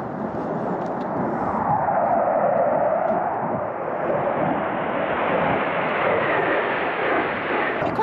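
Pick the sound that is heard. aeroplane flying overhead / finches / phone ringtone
aeroplane flying overhead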